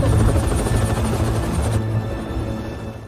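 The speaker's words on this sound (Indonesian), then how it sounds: "saat melihat helikopter yang sedang mencari keberadaannya" A helicopter searches overhead with a loud, steady rotor thrum that fills the whole stretch, easing only slightly toward the end.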